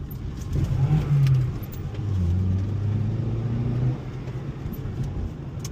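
An Acura RSX accelerates hard on a Calgary street, its engine rising in pitch through two strong revving pulls before easing off, heard fairly close.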